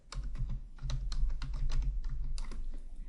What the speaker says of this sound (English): But you actually need to type the title of your book.